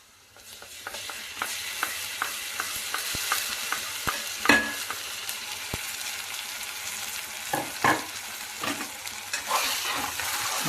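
Spiced masala fries in oil for koramenu fish curry while being stirred, a continuous close sizzle broken by repeated scraping strokes of a spoon against the pan.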